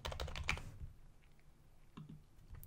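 Brief burst of computer keyboard typing while entering code, quick soft key clicks clustered at the start, then a couple of faint isolated taps in a quiet room.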